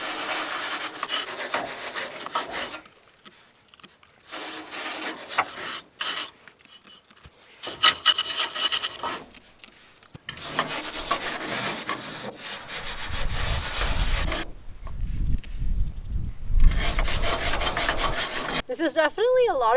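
Stiff carbon steel wire brush scrubbed by hand over rusty metal on an old horse trailer part, in repeated rasping strokes broken by short pauses, close and fairly loud.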